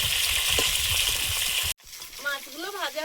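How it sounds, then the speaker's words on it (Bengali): Fish sizzles steadily as it fries in a pan for a Bengali home-cooked meal, a loud dense hiss for under two seconds before cutting off abruptly, followed by a voice speaking. "মাছগুলো ভাজা হয়েছে,"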